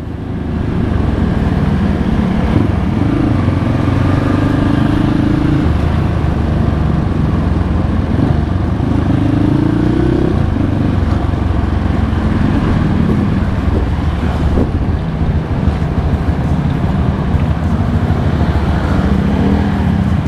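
A Kawasaki KLX with a 248 bore kit rides under load, its engine a steady low drone mixed with heavy wind rush, close and loud, with occasional rising revs.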